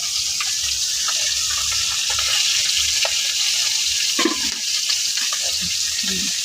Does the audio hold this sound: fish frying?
yes